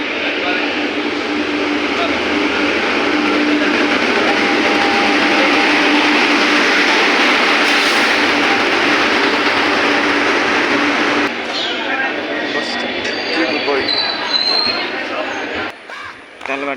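A train pulls into a station bound for Ernakulam, a loud, sustained rumbling roar that eases and thins near the end, with a person talking over it.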